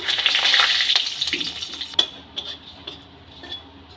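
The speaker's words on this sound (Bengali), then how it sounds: "ওই তেলেই কটা গোটা জিরে আমি দিয়ে দিলাম তিনটে শুকনো লঙ্কা দিয়ে দিলাম দুটো তেজপাতা দিলাম" Whole cumin seeds, dried red chillies and bay leaves crackle and sizzle in hot oil for moong dal, a loud spitting hiss that fades after a couple of seconds, followed by a few sharp clinks of a utensil against the pan.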